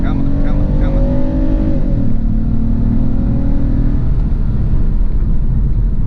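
A 2006 Mazda 6 with an automatic transmission accelerating at full throttle, its engine droning loud and close with rising tones that drop at a gear change, steady and continuous throughout.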